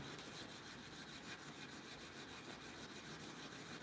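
Hand sanding of a wooden cabinet door with 180 grit sandpaper, a steady, continuous close-up rubbing and scratching that fills the whole stretch at even loudness without pauses.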